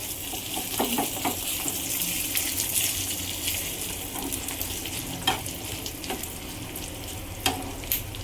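Dried red chillies crackle in hot tempering oil with asafoetida and curry leaves for moong dal sambar, a steady close sizzle broken by occasional stirring clinks and scrapes, with no one speaking.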